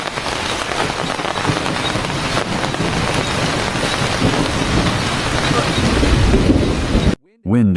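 Heavy rain and thunder pound a survival camp deep in the forest, a loud continuous roar of downpour with rumbling thunder, ending in a brief quiet moment and a voice at the very end.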